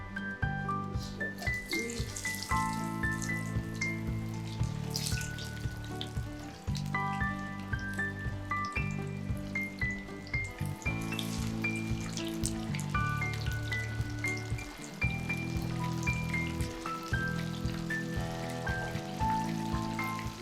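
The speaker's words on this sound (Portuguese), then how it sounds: "Enquanto o peixe está fritando" Fish fries in a pan with a continuous soft sizzle and crackle, heard beneath rhythmic background music throughout.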